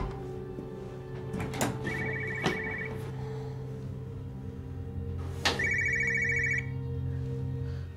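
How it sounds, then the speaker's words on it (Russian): A telephone bell rings in two bursts, one near the start and a longer one around the middle, loud and close, with a steady background hum and no talk. "Алло, Николай Игоревич"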